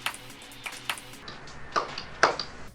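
Click pattern in a Geometry Dash video game level: about eight short, sharp clicks or pings spaced irregularly over a few seconds, faint to moderate, with soft game background underneath.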